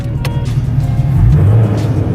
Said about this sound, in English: I don't want to rev it hell loud because I know the valet's right above me